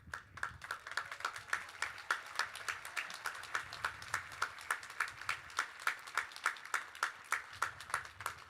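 Commencement audience applauds a graduating class with quiet but steady, rhythmic clapping, many hands beating in a regular pulse from a distance, sustained throughout.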